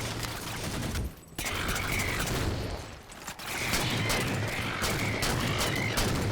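Dense, rapid DMR rifle fire in the Halo 4 campaign on Heroic, crackling almost nonstop with brief lulls amid battle noise and mechanical clatter.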